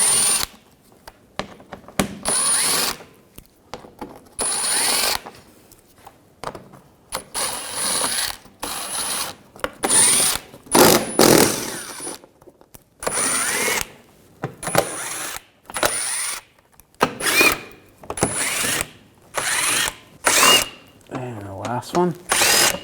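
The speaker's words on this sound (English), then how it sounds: "Take these bolts out." An impact or power tool with an 8mm socket spins bolts out of the underside shield of a 2007-2013 BMW 328i, firing in short repeated bursts of whirring and rattling with brief pauses between, close up and loud.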